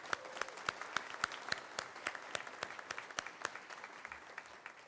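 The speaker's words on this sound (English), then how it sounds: "So let's give them a round of applause, please." A graduation ceremony audience gives sustained, fairly soft applause for the building management and marketing teams, with individual sharp claps standing out steadily through the crowd sound.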